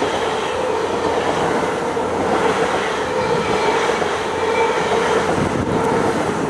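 Train noise at a station: a steady, loud rumble with faint clattering that fills the whole clip, with no talk.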